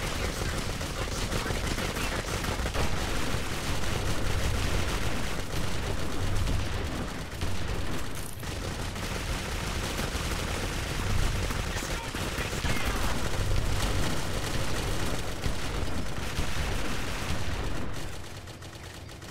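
Dense, nonstop gunfire from the PC game Clive Barker's Jericho, with loud rapid bursts layered close together and barely a pause, easing slightly only in the last second.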